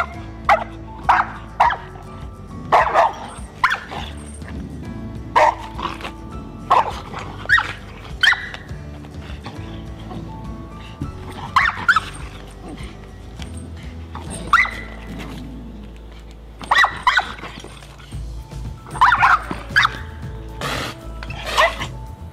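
A female dog chained to a flat collar barks in reaction during a behaviour evaluation test, with repeated loud, close barks and yips at irregular intervals over a steady low background.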